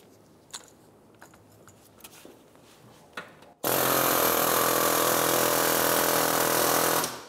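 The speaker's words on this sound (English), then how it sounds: "using an air hammer with a chisel" An air hammer fitted with a chisel is driven against the rear wheel bearing of a 2012-2016 Subaru Impreza. A few scattered metallic taps come first, then a loud, continuous pneumatic rattle runs for several seconds before cutting off.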